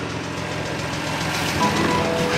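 The engine of a crashed, damaged BMW M2 Competition runs roughly at a steady, close idle, loud and alone with no talk.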